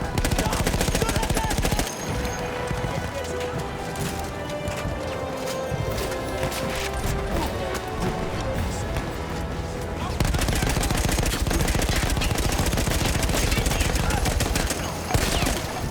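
Fully automatic weapon fire in the game Battlefield 1: dense, rapid rattling bursts run almost nonstop and loud for the whole stretch, with a brief dip in intensity partway through before the firing surges back.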